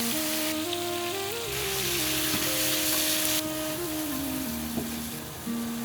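Canned salmon fries in oil in a wok, giving a dense, continuous sizzle and hiss with spattering crackles. Sustained tonal music plays loudly over it the whole time.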